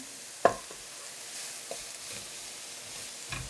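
Cumin beef stir-fried in a pan, with a soft continuous sizzle and one sharp spatula knock near the start, then faint scraping taps later on.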